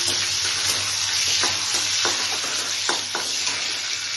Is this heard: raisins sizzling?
yes